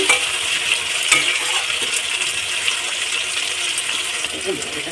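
Onions fry in a pan while being stirred for a fish curry of pomfret, producing a continuous close hiss with occasional light clinks and scrapes.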